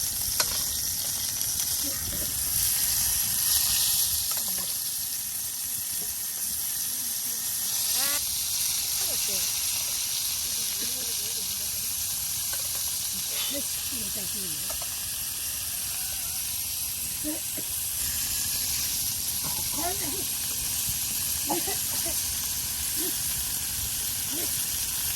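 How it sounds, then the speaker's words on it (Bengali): Young pumpkin pieces fry in cooking oil with a steady, close, broadband sizzle and hiss that runs throughout, with voices talking over it. "এই যে আপনার দেখুন এখন কুমড়োর টুকরোগুলো এই যে তেলে আপনার ভেজে নেওয়া হচ্ছে।"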